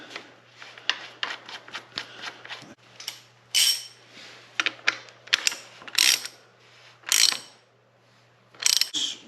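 Ratchet clicking as the axle nut is tightened on a BMW F800 GS Adventure motorcycle, in close, uneven bursts of rapid clicks separated by short pauses.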